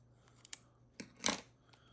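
Scissors snip paper for a planner layout, a few short crisp cuts with a cluster of quick snips near the middle, close and quiet with no talking.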